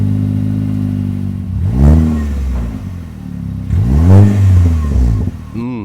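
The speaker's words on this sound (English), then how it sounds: "No self-respecting sophisticate's personalized Juke is complete without this mean performance exhaust." Nissan Juke fitted with a performance exhaust revs twice, each burst rising and falling in a loud, close growl between steady idle.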